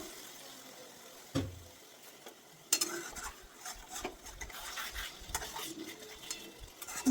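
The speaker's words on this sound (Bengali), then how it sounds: "দেখো ভালো করে আগে মশলাটা দিয়ে আমি কষাচ্ছি এটাকে" Chicken stomach stir-fried with spices in a pan: a spatula scrapes and stirs steadily up close, with occasional sharper clanks over a soft background sizzle.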